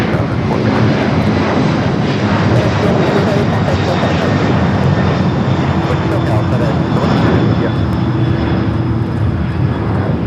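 An Aer Lingus airliner taxis on taxiway Bravo at LAX, its engines a loud, continuous rumbling drone that stays steady throughout, with a voice speaking over it.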